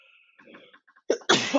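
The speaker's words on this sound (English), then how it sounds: "I'm going to sneeze." A single sneeze bursts out after a short quiet breathy lead-in, sharp and loud at close range.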